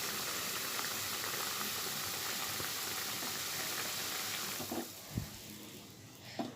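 Lentil dal made with jackfruit seeds boils in a pot, a dense steady bubbling hiss that thins out near the end into a few separate clinks and stirring knocks.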